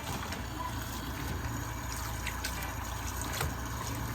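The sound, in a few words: water running while rinsing an oryx hide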